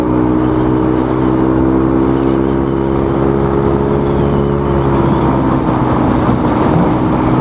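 An automatic (matic) motor scooter engine runs loud and close, holding a steady hum and then rising slightly in pitch as the throttle opens a little.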